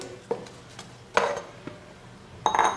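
A few light clinks and knocks of a bowl being set down and handled in a kitchen, ready for cut raw mango and onion, with short scattered taps and a brighter clatter near the end.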